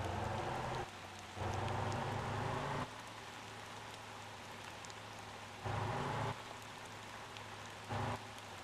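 Rain falling in the driving video game Motor Town, a steady hiss of rainfall with a low engine drone, swelling louder in several short stretches and heard alone without talk.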